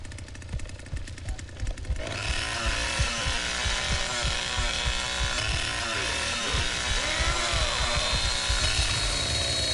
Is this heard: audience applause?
no